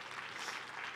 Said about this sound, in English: a big hand, clap, praise.